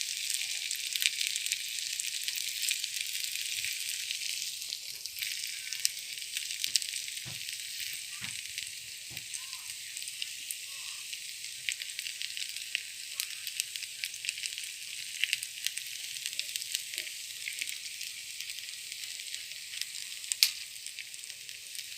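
Tandoori chicken pieces, brushed with oil and sauce, sizzle in a pan with a continuous bright crackle and scattered small pops, moderately loud and steady, with no talking.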